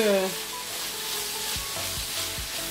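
Onions and bell pepper for an enchilada filling sizzle steadily in a pan, a close, continuous frying hiss with a few soft stirring knocks and no talking.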